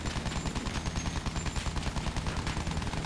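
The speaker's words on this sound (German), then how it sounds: "Schieße ich da drüber oder was?" Gunfire in the World War I shooter game Battlefield 1: a dense, continuous rattle of rapid automatic fire and battle noise, steady throughout with no pauses.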